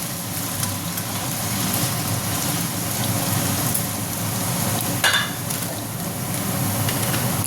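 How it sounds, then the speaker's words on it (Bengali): Potatoes frying in a pan for a vegetarian sabudana pulao, a continuous rain-like sizzle holding steady throughout, close by with no talking. "আলুটা একটু লাল করে ভেজে নেব, যাতে সিদ্ধটা হয়ে যায়।"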